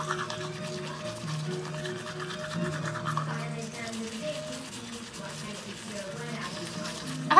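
A tongue is scraped clean in soft, repeated wet scratching strokes, faint and close, with background noise and some voice underneath.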